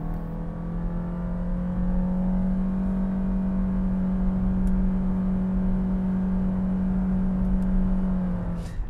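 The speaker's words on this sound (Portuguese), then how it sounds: "vocês vão perceber aquela característica que eu falei do CVT e da intrusão de ruído de motor" Toyota Yaris XS hatch with a CVT climbing an uphill rural asphalt road, its engine droning at a steady, held pitch with constant whine and road rumble, loud and continuous throughout.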